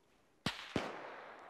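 Two sharp, loud gunshots from a sniper rifle in a tactical video game, spaced about a third of a second apart, each cracking with a bright attack and leaving a long reverberant tail.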